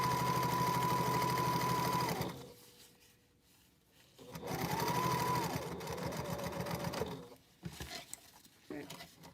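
A sewing machine back-stitches a fabric packing cube in short bursts of rapid mechanical whirring, close and fairly loud, with brief pauses and quiet handling noises between runs.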